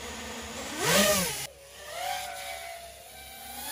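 Drone motors and blades spin up and launch near a slackline webbing break test: a loud rising whine and whoosh that swells, cuts off, then a second softer pitched hum rises and fades.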